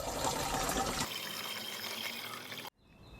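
Liquid Beauveria fungus solution is mixed with 18 litres of water in a tank, a steady splashing pour and gurgle that cuts off abruptly, leaving a faint quiet background.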